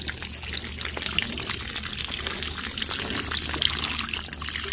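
A retractable garden hose feeds water through flush muffs on a Suzuki 40 outboard engine, giving a steady, close, hissing rush and splash of flowing water that continues evenly throughout.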